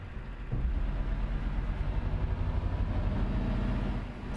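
A Scania truck engine in the game Euro Truck Simulator 2 drones low and steady, a continuous rumble that swells slightly after the start and holds evenly throughout.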